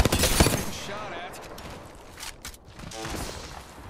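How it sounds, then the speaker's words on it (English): Rapid gunfire bursts crackle through a video game match, loudest early and then trailing into scattered shots, mixed with a player's talk. "Getting shot at."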